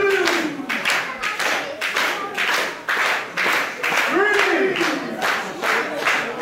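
A sellout crowd at an independent wrestling show claims rhythmic unison clapping for JT Dunn and Jason Divine, loud and steady beats with shouting voices mixed in, and a commentator talking over the noise.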